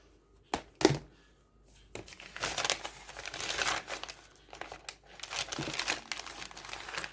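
Sheets of coffee-dyed paper being picked up and shuffled for a junk journal, giving dry crinkling and rustling in close bursts, with two sharp flicks early on, then longer stretches of papery handling.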